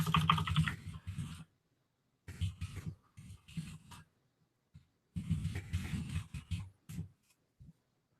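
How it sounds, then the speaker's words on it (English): Computer keyboard typing up close in a quiet room, bursts of fast key clatter separated by short silent pauses, with a few isolated taps at the end. "Let me type this out here."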